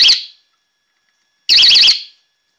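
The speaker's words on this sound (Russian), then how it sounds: "Как только леска натягивается или нитка," A tripwire alarm device sounds when its fishing line or thread is pulled, giving two loud, shrill warbling electronic bursts separated by about a second of silence.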